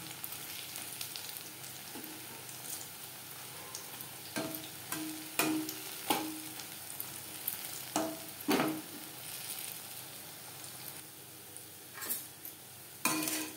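Cabbage and onion pakora with tomato frying in hot oil, a steady crackling sizzle with occasional louder bursts and clinks as the fritters are turned, no voices.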